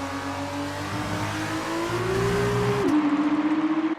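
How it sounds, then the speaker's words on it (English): A Formula 2 race car's engine revs during a 2019 racing round, its pitch climbing steadily before dropping sharply at a gear change and then pulsing, loud and close, with no voices. "you could just hear the engine revving"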